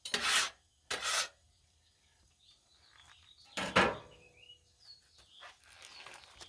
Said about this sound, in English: scrape off a little of this